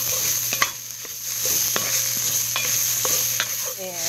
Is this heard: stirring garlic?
yes